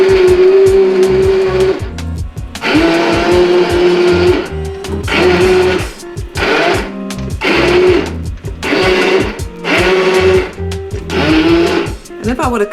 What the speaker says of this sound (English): So I believe I am ready to stick blend.